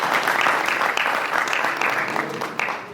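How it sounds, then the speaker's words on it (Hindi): Audience applause at a Hindi music album release event, steady dense clapping from a crowd that fills the whole stretch at moderate loudness, with no distinct voices on top. "तो मैं चाहूँगा एक बार फिर अपने लिए एक बार जोरदार ताली बजाते"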